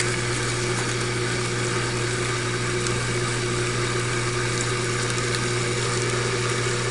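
A water pump runs steadily for a gold paydirt sluice, a constant loud mechanical hum with a watery wash throughout, unbroken and close.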